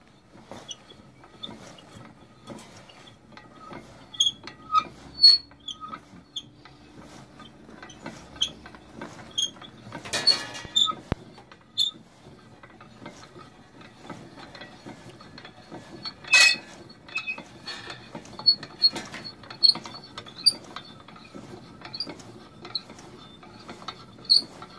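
A hand-cranked homemade spring-making machine turns a bar to wind wire into evenly spaced coils, giving quiet, close creaks, ratcheting clicks and mechanical clinks, with a couple of sharper clanks standing out.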